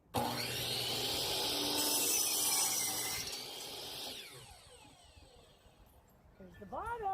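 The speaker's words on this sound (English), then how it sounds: "now we're about to do the miter saw" A miter saw cuts a wooden board for a birdhouse bottom with a loud, steady whirring bite lasting about four seconds. The blade then spins down, and a voice follows briefly at the end.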